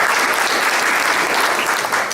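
An audience at a newspaper's 50th anniversary celebration breaks into thick, continuous clapping, sustained and even throughout the short stretch.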